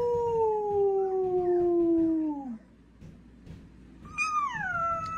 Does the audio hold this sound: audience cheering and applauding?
no